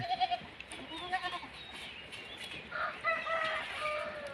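Native crossbred goats bleat on a goat farm in Lopburi, Thailand, with several short calls early on and more overlapping bleats later against a busy farmyard background.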